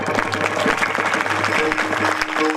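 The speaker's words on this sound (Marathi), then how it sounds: "एकदा आमच्या विश्वंभर महाराजांसाठी जोरदार टाळी होऊ द्या." Audience at a kirtan in Parbhani clapping steadily in a dense, continuous wash of applause for the whole stretch, with a low drone humming underneath.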